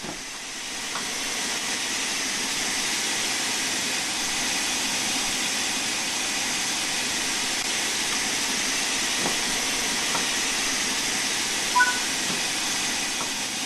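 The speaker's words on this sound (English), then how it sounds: "use the large ejector as needed to get the brakes released" Steady, loud hiss from the large ejector of a steam locomotive releasing its brakes in Train Sim World 5, holding evenly for the whole stretch with faint clanks over it.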